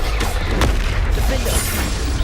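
A Bombarda spell explodes in the Hogwarts Legacy video game as one loud, booming blast with a low rumbling body, followed by sustained heavy rumble and crackle, close and dominant throughout.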